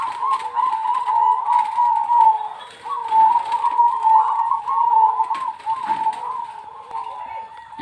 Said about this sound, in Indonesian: perkutut Cemani Majapahit